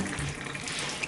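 Water running from a shower head in an apartment bathroom, a steady close hiss and splash with good pressure, continuous and fairly loud throughout.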